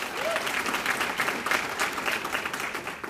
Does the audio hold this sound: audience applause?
yes